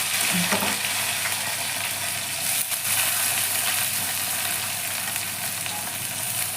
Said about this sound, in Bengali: এখন দেখো আমি পেঁয়াজটাকে বেরেস্তা করে নিচ্ছি